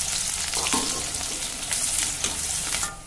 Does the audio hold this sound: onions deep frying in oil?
yes